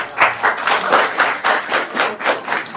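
Audience clapping at a free conference on learning German and immigrating to Germany, a steady crowd applause with dense overlapping claps at an even level throughout, no voices over it.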